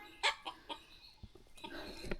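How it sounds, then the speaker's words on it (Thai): Wild jungle fowl in a forest, giving several short clucking calls: a loud burst near the start, softer calls after it, and a cluster of clucks toward the end, with no talking. "อันนี้จะเป็นไก่ป่านะนี่"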